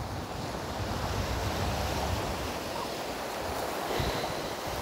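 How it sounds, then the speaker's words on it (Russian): Sea waves wash steadily along the Italian coast, a constant broad surf roar with wind buffeting the microphone, no voices present. "Вот оно море сегодняшнее."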